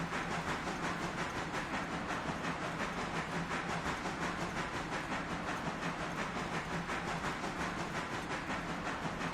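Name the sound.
big steam train running in video game Railroader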